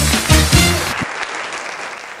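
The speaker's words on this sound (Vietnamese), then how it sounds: "một tràng vỗ tay thật lớn của tất cả quý vị để chúc mừng nhà" Guests at an ethnic Thai wedding in Vietnam burst into loud applause for the bride and groom. The clapping begins under a voice, then fades off after about a second.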